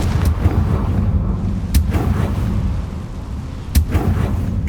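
A Confringo blasting spell fires in Hogwarts Legacy, with sharp explosive bursts landing a couple of times over a rumbling background, moderately loud with no talking.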